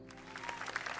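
Crowd applause from the video game My Time at Sandrock, a short burst of many hands clapping at a welcome celebration, fairly faint, with no talking.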